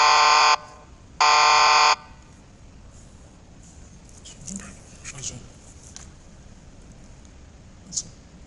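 Ambulance mobile app buzzer alarm sounding in two loud, harsh bursts at the start, followed by quiet room noise with faint clicks and a voice speaking lightly underneath.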